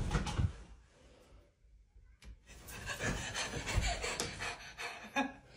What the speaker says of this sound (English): The panting.